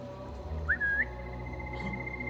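A rising then sustained two-note whistle in Assassin's Creed Mirage, fairly clear over a steady low game ambience, trailing into a faint held tone.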